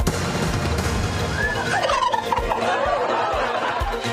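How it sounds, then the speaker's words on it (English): Turkeys gobble in a quick, warbling burst at the White House turkey pardon ceremony, mid-distance over a steady outdoor crowd murmur and background noise. "the White House tradition pardoning 2 lucky turkeys"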